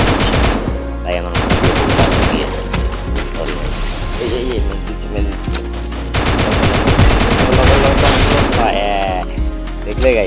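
Rapid automatic gunfire in the shooter game Free Fire, dense bursts of sharp shots and impacts over game music and effects, loud and nearly continuous, with a voice talking over it at times.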